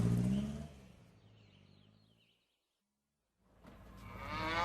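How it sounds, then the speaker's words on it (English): Cattle at a farm market, a low drawn-out moo fading away and then another swelling up after a short silence, with no speech. "Mrs. Boot, Poppy and Sam walk past cows, sheep and pigs."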